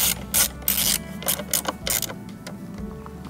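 A ratchet tightens Touratech crash bar bolts on a BMW R1300GS in several quick bursts of close, crisp clicking separated by short pauses, with no speech.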